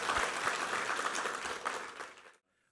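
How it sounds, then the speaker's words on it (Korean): Church congregation applauding during a worship service: a sustained burst of many hands clapping, moderately distant, that fades out abruptly near the end. "우리 하나님께 한번 감사와 영광의 박수 올려드리겠습니다"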